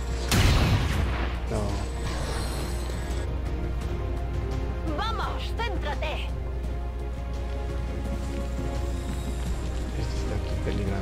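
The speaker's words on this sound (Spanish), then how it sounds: "No pensé que la explosión iba a ser tan fuerte." Video game explosion from XCOM 2, a loud boom near the start that settles into a sustained rumbling roar with in-game mechanical and musical sounds continuing beneath.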